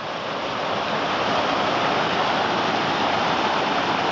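Creek water flows steadily at a park, a dense, continuous rushing wash with no talk, constant and fairly loud throughout.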